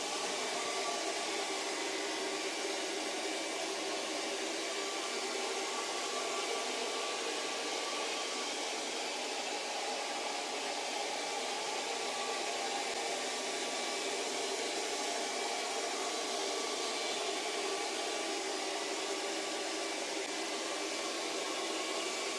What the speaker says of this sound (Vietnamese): Medion sẽ tự động mà hút theo chương trình mặc định của nó để làm sạch toàn diện khu vực mà các bạn muốn vệ sinh